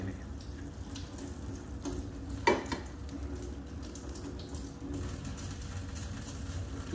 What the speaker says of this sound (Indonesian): Cuci dulu spatula